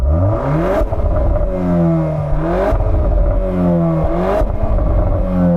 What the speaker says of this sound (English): the standard one sounds fruity enough. Go on, give it some revs.